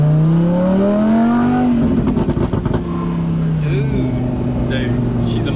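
A Lamborghini Huracan supercar accelerates hard, its engine note climbing through the revs and then a shift with a burst of crackle before the tone rises again, heard loud and close from inside the car.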